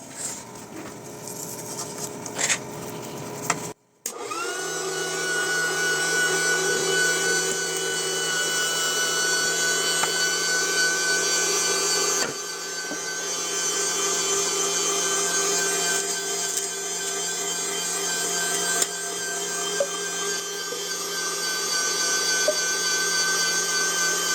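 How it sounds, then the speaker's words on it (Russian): Hand-cranked meat grinder extruding pieces of homemade cookie dough, a steady continuous grinding and rubbing whir with a faint rhythmic patter, close and unbroken after a brief pause near the start, no talking. "От готового теста отщипываем кусочки и закладываем в мясорубку."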